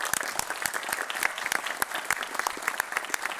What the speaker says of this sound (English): Give the Chief of Police a round of applause.